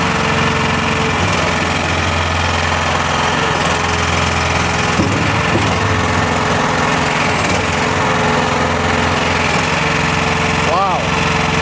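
A tracked mud buggy's engine runs hard at high throttle, a steady loud buzzing drone held close throughout, with a voice speaking over it.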